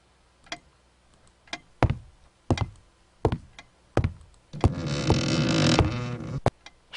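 Creaky floorboards in a video game give a series of separate creaks and knocks, several sharp and close together, followed by a longer, louder groaning creak before one last tick.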